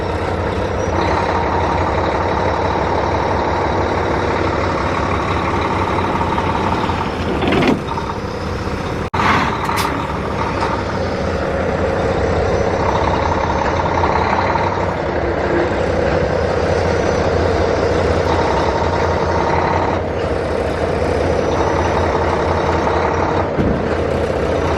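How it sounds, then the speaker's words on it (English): Flatbed truck engine held at raised revs to build air pressure, a loud continuous diesel drone with brief hissy bursts and clunks, no voices. "He's revving it right now to get the air pressure up."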